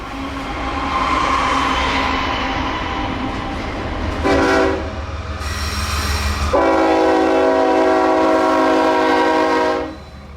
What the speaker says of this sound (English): another northbound intermodal, this one with an ES-44DC leading 2 rebuilt AC-44